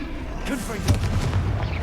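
A Confringo fire-blast spell in the Hogwarts Legacy video game lands as a dense, rumbling boom that swells briefly and rolls on under a continuous noisy game mix.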